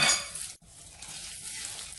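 A utensil scrapes and swishes through thick idli batter in a bowl, a continuous close-up stirring sound with one brief pause.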